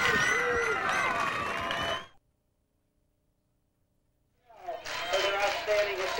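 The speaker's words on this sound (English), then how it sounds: "The cheering Mustangs." Crowd cheering for the Mustangs at a 1993 IHSA girls Class AA softball championship game, loud and continuous for about two seconds, then a gap of silence before the cheering noise returns just as loud.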